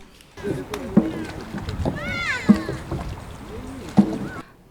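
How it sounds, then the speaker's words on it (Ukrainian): Paddles of a dragon boat crew in life jackets strike the water in a regular rhythm, with splashes about every second and a half, while people talk nearby over light wind. "веслярі у рятувальних жилетах відпливають від берега на човні драконі"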